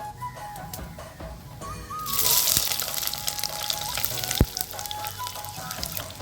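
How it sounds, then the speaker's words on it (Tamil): Sliced onions go into hot oil with cinnamon for a pepper chicken fry, and a sudden loud hissing sizzle starts partway through, then carries on steadily to the end. "வெங்காயத்தை சேர்த்துக்கலாம்."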